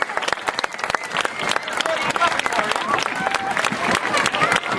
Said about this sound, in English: Let's have a nice big clap for Marcus